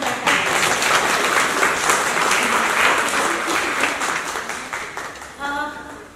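A crowd at a Mumbai art fair claps loudly and steadily, dense applause that fades toward the end, with a voice briefly heard as it dies down.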